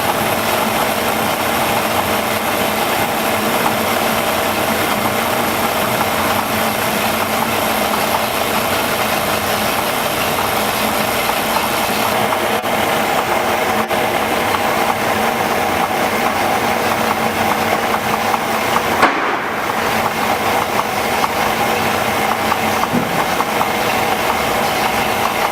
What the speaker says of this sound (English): you'll hear a difference in the engine RPM. It drops